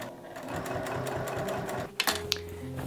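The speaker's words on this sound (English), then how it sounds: "I'm gonna top stitch it all the way around with a 3 millimeter stitch length." A sewing machine top-stitches a fabric basket with a 3 mm stitch length, running in a rapid, even rhythm, stitching steadily before slowing and stopping with a few mechanical clicks.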